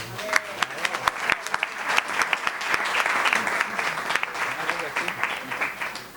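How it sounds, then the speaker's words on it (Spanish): Warm, sustained audience applause at a book fair, many hands clapping in a steady crackling mass with a few sharper individual claps and faint voices beneath. "Susana Teruel, para la que pido el más ferviente aplauso."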